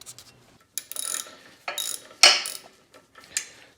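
A hand ratchet removing the clutch pressure plate bolts on a Porsche 914, four close, crisp bursts of clicking pawl strokes, each lasting about half a second, separated by short quiet gaps, with no talk.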